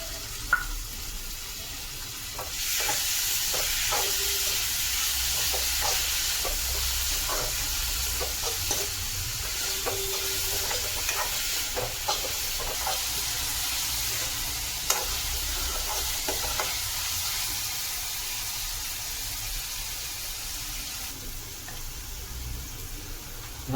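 Finely chopped onion frying in hot oil for a spicy prawn masala, a steady close sizzle with a broad hiss and occasional spoon scrapes and taps against the pan, no voices.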